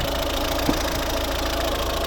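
A 2010 Volvo V50 R-Design's 1.6 D2 diesel, 115 hp, eight valves, idles close by with a steady low throb and one faint tap partway through; no one speaks.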